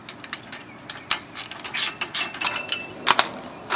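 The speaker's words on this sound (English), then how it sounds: "There's 4 little bolts inside here, 14 millimeters, to hold the hub in. So we take all the bolts off," A hand ratchet turns out the four 14 mm bolts holding a rear wheel hub assembly on a car, giving bursts of close, bright clicking in uneven spurts with short pauses between strokes.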